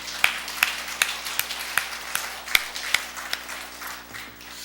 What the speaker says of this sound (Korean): 우리 아버지들께 한번 격려의 박수를 한번 드리기 원합니다.